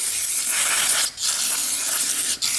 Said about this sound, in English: Get a little brake cleaner, spray that out.